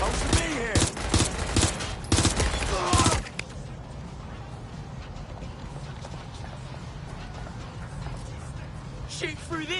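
Gunfire in the Watch Dogs Legion video game: rapid loud bursts of automatic shots for about three seconds, then quieter background with faint scattered shots and game voices.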